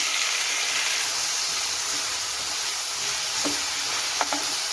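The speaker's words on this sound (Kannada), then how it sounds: "ಇದನ್ನು ಅಷ್ಟೇ ಸ್ವಲ್ಪ ಚೆನ್ನಾಗಿ ಮೆತ್ತಗಾಗೋವರೆಗೂ ಫ್ರೈ ಮಾಡ್ಕೊಳ್ಳೋಣ" Tomatoes frying in a pan give a steady, loud sizzle and hiss that runs without a break, with a few faint scrapes of stirring near the end.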